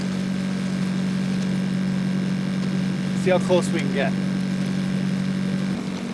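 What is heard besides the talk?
small boat motor running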